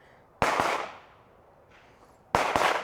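Two loud shotgun shots, about two seconds apart, each a sharp broadband blast with a short decaying tail, fired during a recoil-management training drill on a shooting range.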